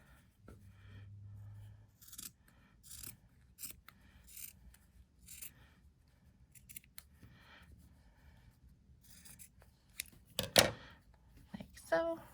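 Scissors snipping through a sock, quiet close-up cuts in short bursts with soft rustling of fabric between them.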